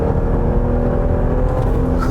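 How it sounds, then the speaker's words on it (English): Close inside a 2017 Buick LaCrosse, the engine drones steadily and loud as the car accelerates hard toward red line under paddle-shifted gears, with a constant whirring tone throughout. "I'm using the paddle shifters and I'm going just over red line."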